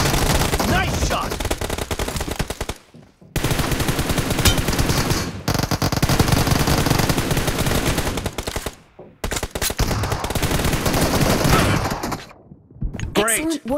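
Rapid automatic gunfire in PUBG on a phone, long dense bursts of loud crackling shots separated by brief pauses, with game voice callouts mixed in.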